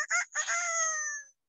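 A parrot imitates a rooster's crow, giving one loud, close cock-a-doodle-doo with a short broken start and a long drawn-out tail, heard alone.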